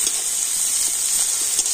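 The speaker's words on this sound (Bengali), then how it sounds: "এখন পেঁয়াজটা একটু হালকা করে কিন্তু ভেজে নেব।" Chopped onion fries gently in a pan for an aloo paratha filling, a loud, steady, close-up sizzling hiss with faint bubbling and no pauses or speech.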